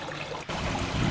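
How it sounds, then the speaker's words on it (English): Water trickling at night in a city backyard, a steady close babble with a brief dip partway through, fairly loud and continuous with no voices. "Just the sound of the water."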